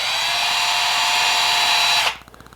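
A repaired 1/4-inch impact tool spins freely with a steady, high whirring whine at close range, then cuts off abruptly near the end, leaving a few faint clicks.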